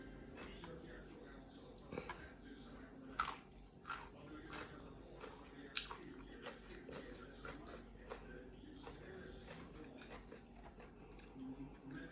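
Someone eating stewed pork leg over rice with loud wet smacking and chewing, irregular close mouth clicks and squishes over a quiet room with faint background murmur.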